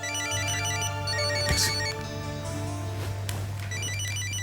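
A phone ringtone plays a repeating electronic melody over a steady low hum, with a brief clunk partway through.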